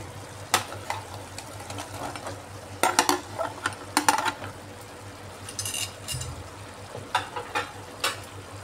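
Fried okra tumbled into a spiced masala in a pan, low steady sizzle with scattered metal spoon scrapes and clinks, moderately close, no voices.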